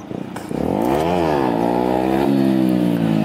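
A Kawasaki Ninja ZX6R motorcycle engine revs hard for a wheelie, its pitch rising and dipping in a loud, close, sustained roar.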